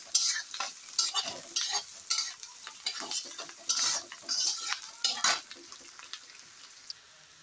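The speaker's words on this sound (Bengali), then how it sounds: "চলো এগুলি হালকাভাবে ভেজে নেবো" Pasta and onions being lightly fried and stirred in a pan, with repeated close scraping and stirring strokes over a soft, steady sizzle, each stroke rising and falling in an uneven rhythm.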